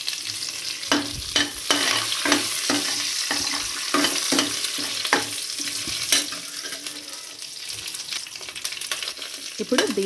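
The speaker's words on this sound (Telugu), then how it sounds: "కరివేపాకు కూడా వేసుకుని ఫ్రై చేసుకోవాలి" Curry leaves frying in hot oil for a tempering while making Andhra-style ivy gourd (dondakaya) chutney: loud close crackling sizzle with repeated sharp scraping stirs of a spoon in the pan, no talking.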